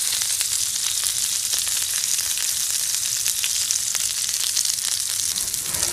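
Steak frying in a pan for a burger, a dense, even sizzle with crackling pops, close and steady from start to end with no talking.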